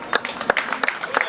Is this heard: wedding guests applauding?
yes